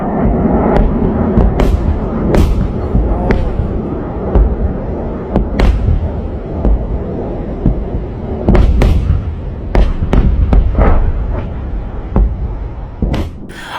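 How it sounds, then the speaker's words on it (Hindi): Missile attack explosions over Bahrain as Patriot air defense fires: a series of sharp, loud bangs and booms at irregular intervals, some close together, over a rumbling background. "बहरीन पर हमला किया जा रहा है, मगर अमेरिका की पेट्रियट डिफेंस मिसाइल सिस्टम उससे रोक नहीं पा रही है"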